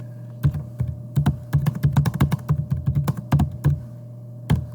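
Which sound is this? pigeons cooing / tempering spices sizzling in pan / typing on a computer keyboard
typing on a computer keyboard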